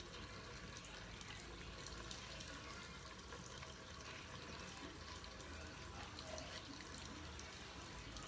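Tap water runs steadily into a sink while soap is rinsed off hands, a faint continuous splashing hiss with no pauses.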